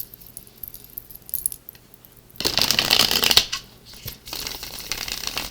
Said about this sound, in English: just 2 more shuffles to go